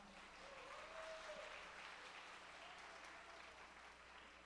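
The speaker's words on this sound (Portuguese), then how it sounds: "Uma salva de palmas" A church congregation claps together during a Sunday celebration service, steady applause that stays even and faint throughout, heard at a distance with no talking over it.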